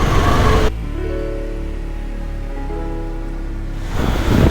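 Heavy rain roars steadily, a dense broadband wash that drops briefly to a lower hum before the downpour noise returns.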